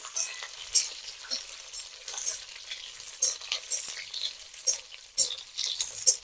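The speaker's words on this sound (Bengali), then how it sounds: "আমি পেঁয়াজটাকে ভালো করে ভেজে নেব আমি" Chopped onions frying in hot oil in a pan, a steady crackling sizzle punctuated by repeated scrapes and stirs of a spatula, quiet and close with no talking.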